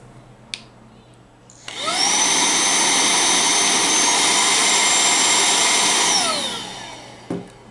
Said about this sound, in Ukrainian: Включення і виключення пилососу робиться одноразовим натисканням цієї кнопки.